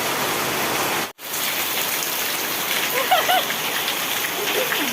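Rain pours steadily outdoors, a dense even hiss of drops on surfaces with a brief cutout near the start and a few faint background sounds later.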